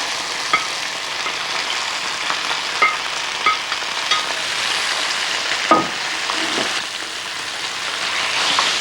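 Steady, close sizzling of chicken and vegetables frying in oil in a hot microwave browning dish, with occasional light clinks and scrapes.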